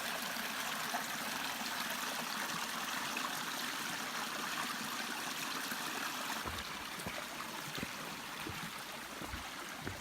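Mountain stream on the Appalachian Trail in Connecticut, flowing steadily with a continuous close-up rush and trickle of water throughout.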